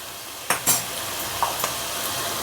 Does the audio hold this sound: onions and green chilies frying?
yes